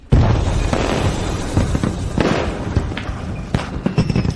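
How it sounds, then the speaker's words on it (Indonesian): Fireworks bursting in a rapid, uneven series of loud booms and crackling pops, close by, with a few sharper bangs standing out. "Itu kembang api. Sangat indah ya."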